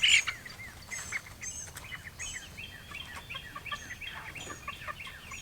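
Chickens in a chicken tractor on a farm at dusk, chirping and clucking in a steady busy chorus with bright peeping calls, close by, with no talk.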